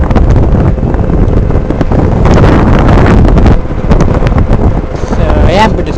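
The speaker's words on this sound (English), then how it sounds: "Here's that wind I told you guys about." Heavy wind buffeting the microphone while riding an Ezip 1000 electric scooter outdoors, a loud continuous roaring rush that nearly drowns everything, with a voice briefly heard underneath.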